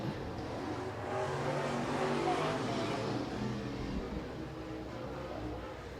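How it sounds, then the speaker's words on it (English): Super late model race cars circle a dirt speedway in a steady, dense engine roar that swells and eases slightly as the pack spreads out, with a commentator's voice faintly underneath. "As these cars now are starting to spread out throughout this entire speedway."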